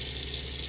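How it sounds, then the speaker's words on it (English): Steady hiss of running water from a tap fed by a water pump in a rustic tiny cabin, continuous and fairly close, with no talking. "And then this switch is for the water pump,"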